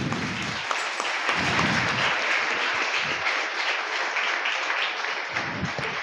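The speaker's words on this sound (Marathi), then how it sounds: "जोरदार टाळ्या एकदा झाल्या पाहिजे." Audience applause at a school competition held for Albert Einstein's birthday in Sangameshwar: sustained clapping from a crowd fills the whole stretch, steady and fairly loud throughout.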